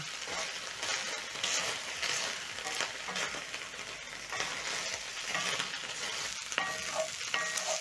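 Pork sizzles and crackles steadily in a hot cast iron pan, with occasional scraping and stirring sounds close by.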